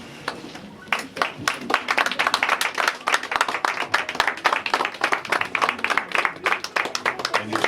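An audience at a reception for the president applauds, steady, fairly close clapping that starts after a second and continues evenly to the end.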